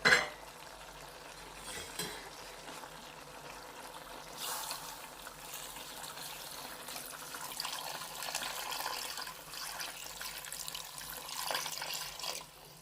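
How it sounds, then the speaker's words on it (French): Water runs into a cocotte of meat and vegetable stew, a continuous soft splashing and trickle with a few clinks at the pot, heard up close without speech. "Ensuite je vais venir mouiller. من بعد غادي نجي ندير المرقه donc بالماء."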